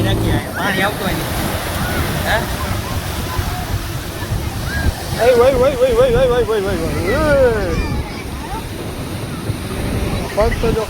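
Sea surf at Diu beach rolls in a steady broad wash, with people talking and a whistling or chirping voice rising over the waves midway.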